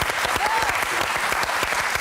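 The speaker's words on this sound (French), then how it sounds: "applaudissements. Bravo." A French TV studio audience applauds in a steady burst of dense clapping that stays loud and even for the whole two seconds, with a brief voice heard over it.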